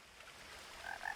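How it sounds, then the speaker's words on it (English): Tree frogs croaking in the game What Remains of Edith Finch, a faint, distant chorus of short croaks that grows a little louder near the end of a brief moment. "I can hear tree frogs croaking at me."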